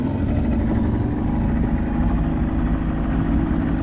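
Outboard motor on a fishing boat idling on a river, a steady low rumbling engine drone, close and continuous, with no voices.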